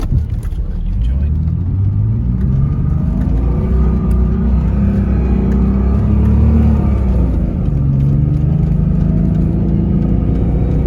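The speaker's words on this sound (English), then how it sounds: "You can hear the front axle hop." An off-road vehicle grinds through deep winter snow with a loud, continuous engine rumble and low juddering thumps as the front axle hops, and a person talks over it.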